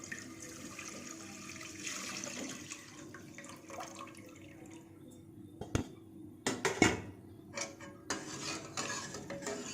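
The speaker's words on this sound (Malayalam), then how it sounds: "അതിലേക്ക് ഞാൻ കുറച്ച് വെള്ളം ആഡ് ചെയ്ത് കൊടുക്കുകയാണ്. വെള്ളം ആഡ് ചെയ്യുമ്പോൾ ശ്രദ്ധിക്കുക, അങ്ങനെ എന്താണ് ഒരു സൗണ്ടൊക്കെ വരും" Water poured into a pan of hot caramelized sugar for a vermicelli payasam gives short bursts of sizzling and bubbling along with spoon scraping and stirring, fairly close and with no talking.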